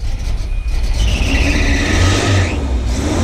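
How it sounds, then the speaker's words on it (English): A running Volvo engine with 260,000 kilometers hums up close while a high belt squeal rises and falls over it for about two seconds before fading. "Just a belt squeak."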